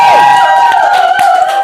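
Audience cheering for a performer at a television show, loud shouts and whoops from the crowd blended with sustained musical tones, dense and continuous over a short stretch.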